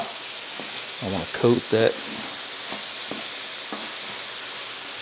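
Cauliflower sizzles steadily in a hot pan while a voice talks briefly over the frying, which carries on alone afterward.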